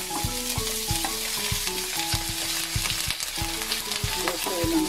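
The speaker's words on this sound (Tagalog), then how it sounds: "Igisa-gisa lang natin." Banana heart sizzles and fries with pork belly and garlic in a hot pan, a continuous bright crackle broken by repeated scraping stirs of a utensil, close and steady with no talking.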